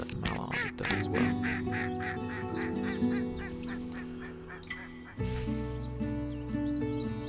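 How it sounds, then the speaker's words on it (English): A mallard duck quacks in the Wingspan board game on Steam, giving a run of loud, rapid, honking quacks in a rhythmic series over a soft musical backdrop, then a sustained tone near the end. "I'm going to grab that mallard as well."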